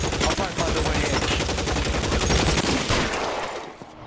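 Rapid gunfire fills a shootout in the game LA Noire, dense repeated shots in quick bursts, close and loud, easing slightly toward the end.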